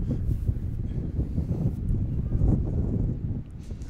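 Strong gusting wind buffeting the microphone at an outdoor men's semifinal game, a dense low rumble that swells and eases continuously throughout.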